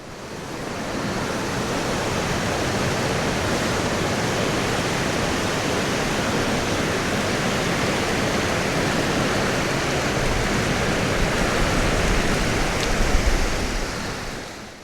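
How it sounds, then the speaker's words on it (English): Humber River water flowing in a steady, dense rush, loud and continuous throughout, with no one speaking. "So the Humber River is directly behind me."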